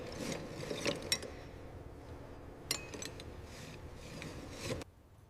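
A ratchet working on the cylinder head bolts of a 1906 Rolls-Royce Silver Ghost engine, giving close metallic clicking and grinding in a few bursts with sharp accents, then stopping near the end.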